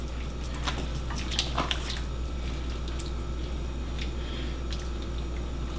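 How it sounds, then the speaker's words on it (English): Coconut milk poured into a hot pan with shrimp, soft wet sizzling and bubbling with a few faint drips and squishes, low and steady, no talking. "we're just gonna incorporate that coconut milk"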